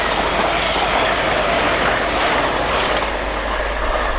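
A Class 800 train speeding through a station on the East Coast Main Line, a loud steady rushing roar with faint clicking of wheels, passing close by with no talk.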